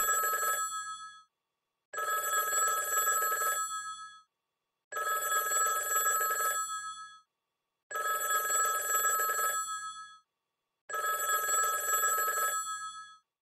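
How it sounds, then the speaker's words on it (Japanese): A telephone bell rings late at night in the visual novel Miotsukushi Matsuri, sounding five long bursts of about two seconds each, separated by short silences, loud and clear with no talk over it. "電話だ。"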